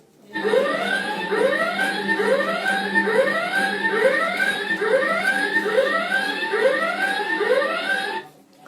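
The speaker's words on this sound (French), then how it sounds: "pourquoi as-tu déclenché l'alarme" A warbling electronic alarm going off, repeating a rising sweep pattern about twice per second, loud and steady for roughly eight seconds before cutting out, with no talk over it.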